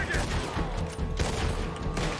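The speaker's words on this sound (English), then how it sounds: "I missed a couple of shots, but we're fine." Gunfire in a shootout in a western video game with Arabian horses, dense cracking shots in quick succession, loud and close, with a player's voice in the mix.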